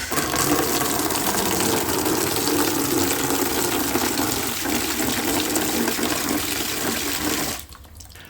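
Water gushes loudly and steadily through a Parkside programmable watering timer on an outdoor supply, a dense continuous rush that stops abruptly near the end.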